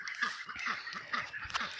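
Ducks at a pond beside a new well give a quick run of soft, repeated quacks and honks, fairly faint and close together.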